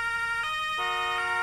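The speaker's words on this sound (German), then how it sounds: "Und die Sirene ist sehr laut." A two-tone emergency vehicle siren from the Roblox game Emergency Hamburg, loud and steady, alternating pitch in a rhythmic hi-lo pattern with no talking over it.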